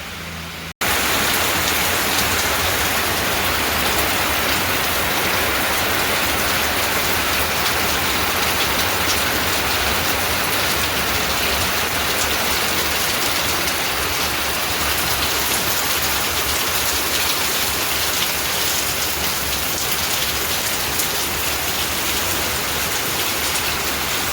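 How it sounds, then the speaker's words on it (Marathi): Dense, continuous roar of heavy rain pouring down, loud and unbroken for the whole stretch after a brief quiet start. "जोरदार पाऊस चालू आहे"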